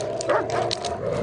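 Dogs bark and whimper close by in short, overlapping yips and yelps, loud and excited, with a steady background hum beneath.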